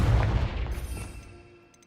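Confringo fire-blast spell explosion in Hogwarts Legacy, a single loud booming burst that rumbles and fades out over about two seconds, with a faint chime at the end.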